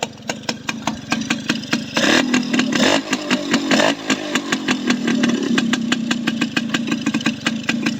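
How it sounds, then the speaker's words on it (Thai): A Yamaha Bell 100 motorcycle engine idles close by with a quiet, steady putter of rapid, even pulses and no voices. "เครื่องเงียบมากนะครับคันนี้ เครื่องเงียบสุดๆเลย"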